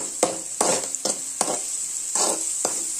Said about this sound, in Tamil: இந்த மாதிரி வதங்கணும்.